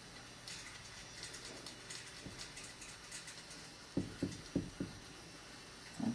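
A camera mount on a portable fence is tightened by hand, making a run of faint ratcheting clicks followed by four louder, distinct clicking turns near the end, close up, with no talking.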